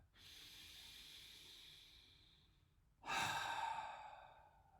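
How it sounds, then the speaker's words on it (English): A deep breath during a meditation session, a soft airy inhale followed after a pause by a louder, longer hissing exhale, close and alone with no talking. "Let's all take a deep breath, clear the mind,"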